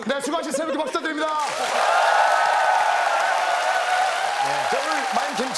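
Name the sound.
studio audience applause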